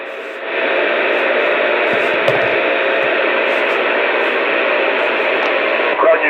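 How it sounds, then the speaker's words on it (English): A cheap radio hums and buzzes with harsh, steady static, loud and close, holding almost unbroken for several seconds. "Listen to this cheap shit humming and buzzing."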